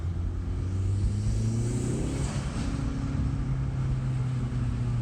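A Hyundai Veloster Turbo fitted with an Injen intake revs steadily, a loud continuous engine drone with rising and falling pitch sweeps around the midpoint, close and alone.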